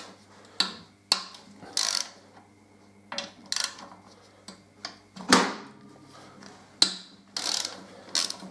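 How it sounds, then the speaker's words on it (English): Ratchet wrench with a 12-point socket working a brake caliper bolt on a Harley-Davidson Deuce motorcycle, a series of close, crisp clicking strokes in uneven bursts, with no voices. "get your 12 point socket on"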